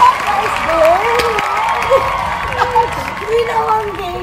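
A small group gives Glenn a round of hand claps and light cheering inside an AllHome home-goods store, with chatter and laughing voices running over the steady clapping.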